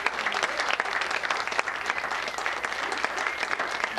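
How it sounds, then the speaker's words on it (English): An audience at a Gold Rush songs and stories evening gives a round of applause, continuous full clapping filling the whole stretch with no voices. "So a round of applause for them,"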